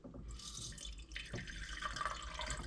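Hydrochloric acid, close to 100 millilitres, is poured onto silver relay contacts in a container, giving a continuous splashing, trickling pour with fizzy bubbling that swells near the end, close by and with no talk.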